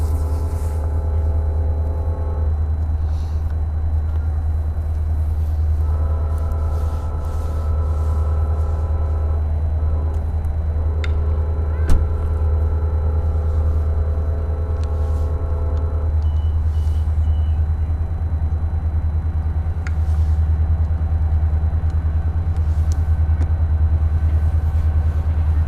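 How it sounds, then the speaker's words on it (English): A switching locomotive approaches on rails beside a track with a geometry unit, a steady deep diesel rumble holding throughout with tonal horn-like hums starting and stopping, faint clanks over the drone. "here comes our switching locomotive,"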